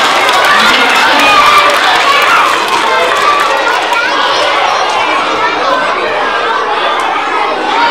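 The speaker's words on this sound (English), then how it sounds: "How about a nice round of applause for my friend Michaela?" Children at a school fire safety assembly clap and cheer in a loud, continuous roar of clapping and excited voices that stays busy throughout.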